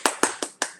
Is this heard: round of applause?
yes